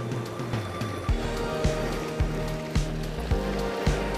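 Steady rain falls outdoors at a shoreline squid-fishing spot in spring, a dense continuous hiss with wind, and low rhythmic thumps recurring roughly every half second underneath.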